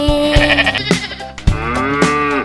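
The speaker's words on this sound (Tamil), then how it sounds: "ஆடும் ஆடும் வீட்டிலே" A goat bleats in a children's rhyme, a wavering nasal cry over musical backing with a steady beat and no voices.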